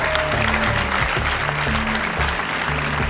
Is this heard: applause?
yes